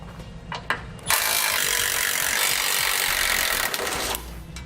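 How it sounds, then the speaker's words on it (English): A power tool, likely an impact or ratchet tool, spinning off 13mm bumper bolts on a 2017 Chevrolet Equinox, with a few metallic clicks then a loud sustained whirring burst of about three seconds, close up. "there'll be 3 13mm bolts on each side of it"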